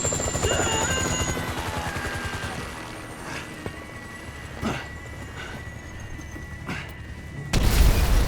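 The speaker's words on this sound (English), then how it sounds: "Chopper, incoming!" Helicopter in Grand Theft Auto V drawing near, a steady rotor drone under game music and ambience, with a few muffled thumps and a loud burst at the end.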